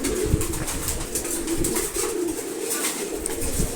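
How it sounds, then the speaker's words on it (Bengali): Several male pigeons coo continuously in a loft, overlapping low throaty calls mixed with light rustling and scuffing, fairly loud and close throughout. "এখানে সবগুলো নর কবুতর রাখছি।"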